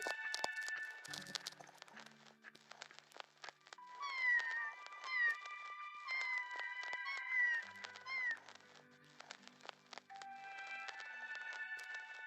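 A kitten meows several times in thin, high cries, close by, amid light rustling and clicks.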